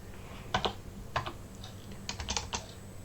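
Scattered clicks of keys being pressed on a computer keyboard, a few short bursts of typing with pauses, close and clear over a faint hum.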